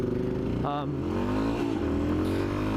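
A Yamaha XT250 motorcycle engine hums steadily while riding, its low tone shifting slightly in pitch throughout, with a rider's voice talking over it.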